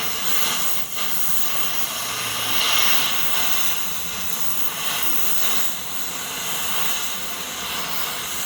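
A torch heats a stuck car hub during axle work, giving a steady, loud roaring hiss that holds for the whole stretch with slight swells and no voices.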